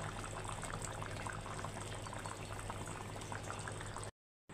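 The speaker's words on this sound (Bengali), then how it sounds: "এই তো ঝোল দিয়ে ফুটে উঠেছে তরকারি" Hilsa fish curry with tomato bubbles in its gravy, a dense, steady boil up close and fairly quiet, cutting out abruptly near the end.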